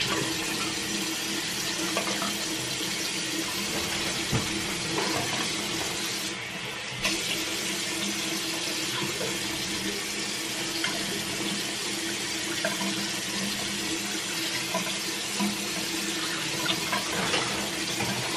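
A bathroom tap runs steadily into a sink for skincare rinsing, a continuous broadband splash with no talk and only a brief dip partway through.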